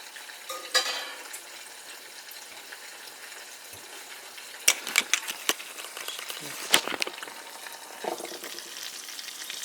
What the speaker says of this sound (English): The eggs are cooking and we're waiting for the eggs to cook.